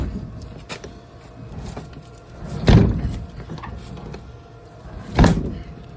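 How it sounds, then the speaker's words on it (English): A door in a machine shop is pulled shut, giving two dull, solid thuds a few seconds apart over a quiet background hum. "so we'll come back inside and we'll close the door"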